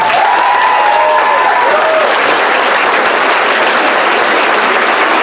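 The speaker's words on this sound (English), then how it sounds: "So can we give her a big round of applause." An audience at the Enniscorthy Community College Transition Year variety show gives sustained, loud applause for five seconds, with a few whoops rising above the dense clapping.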